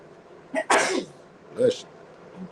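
A single sharp sneeze bursts out, followed a moment later by a second, softer sneeze-like burst, close to the mic in a quiet room.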